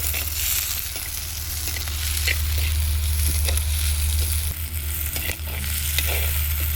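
Onions fry in a pan for a Madurai-style onion meat curry, a close, steady sizzle with occasional stirring clicks over a constant low stove or fan hum.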